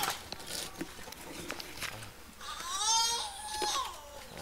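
A hungry young bird, a fire-tufted barbet chick, begging with high, wavering cries that build into a loud harmonic run in the second half, over faint background noise.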